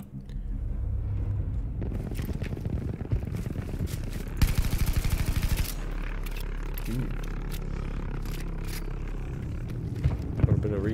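A gun in Battlefield V fires in rapid automatic bursts over a steady rumble of battle noise, with a voice talking through parts of it.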